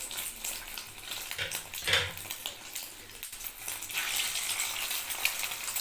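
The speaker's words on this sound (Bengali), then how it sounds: "একে একে করে আমি এটা তেলে দেবো।" Food pieces dropped one at a time into hot oil in a pan crackle and sizzle steadily, with a few brief louder spits and light metallic clinks of a utensil against the pan.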